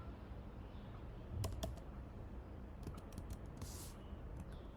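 Quiet keyboard typing while entering SQL foreign key constraint code, with short clusters of soft key clicks separated by pauses over a faint room hum.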